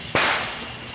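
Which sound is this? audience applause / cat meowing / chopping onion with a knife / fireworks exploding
fireworks exploding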